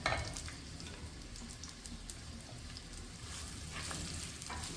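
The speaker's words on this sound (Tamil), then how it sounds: "நான் 2 பெரிய சைஸ் வெங்காயம் நீலவாக்கில் அரிஞ்சு சேர்த்துறேன்" Two large sliced onions sizzling in oil in a pan for vegetable dum biryani, a continuous crackling fry with occasional stirring scrapes, close and moderately loud.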